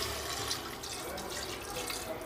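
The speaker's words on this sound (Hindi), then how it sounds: "मैंने एक गिलास पानी डाला है इसके अंदर" A glass of water is poured into a pot holding chicken, giving a steady splashing, rushing stream close by for a couple of seconds.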